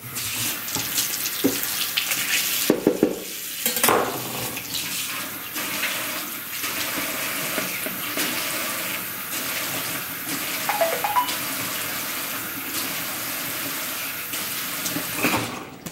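Tap water runs steadily into a kitchen sink while meat is rinsed under it, a close continuous splashing stream that shifts in tone as the meat moves and the flow is interrupted briefly.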